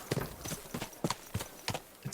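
Horse hooves clip-clop in a steady, even rhythm while riding in Kingdom Come Deliverance 2, about eight clear, close strikes over a couple of seconds with little else heard.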